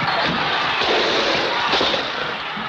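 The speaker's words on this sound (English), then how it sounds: "They're firing submachine guns now into the air." A dense, noisy roar of submachine guns fired into the air amid an unruly crowd, continuous crackling bursts blending into loud, steady crowd noise with no distinct separate shots.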